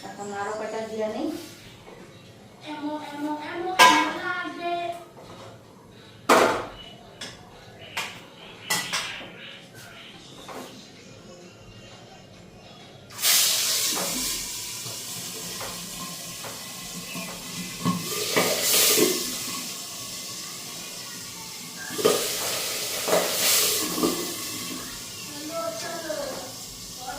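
More fish pieces added to a pan of hot oil. Voices and scattered clinks of utensils come first, then a loud, steady sizzle with stirring and scraping takes over.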